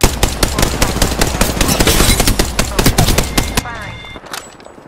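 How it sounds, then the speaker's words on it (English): Automatic gunfire in the video game Apex Legends, rapid loud bursts of shots firing continuously for several seconds before cutting off into quieter game sounds. "They're shooting at me."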